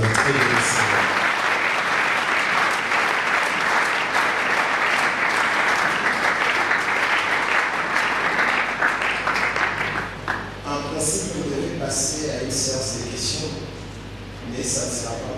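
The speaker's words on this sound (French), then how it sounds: "Est-ce qu'on peut encore acclamer le Seigneur?" A church congregation applauds loudly and continuously, a thick wash of many hands with voices mixed in, then thins out and fades toward the end.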